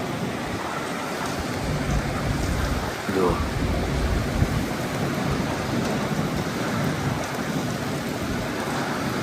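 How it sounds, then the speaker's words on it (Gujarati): Heavy storm rain pours steadily in the dark with a deep thunder rumble rolling through, loud and close; a voice says a single word briefly. "ખતરનાક વાવાઝોડું ચાલુ અંધારામાં"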